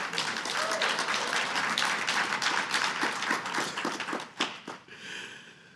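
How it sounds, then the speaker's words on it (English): A conference audience gives a round of applause for 20 Under 20 award winners, the dense clapping steady and fairly loud before thinning into scattered claps near the end. "A round of applause for the 20 Under 20."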